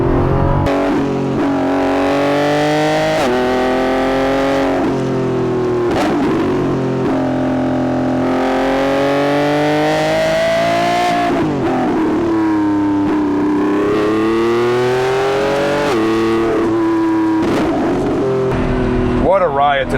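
Lamborghini Revuelto V12 hybrid supercar in Corsa mode on a mountain road, engine loud and continuous as it revs up and down through repeated climbs and drops, with occasional crackling backfire pops.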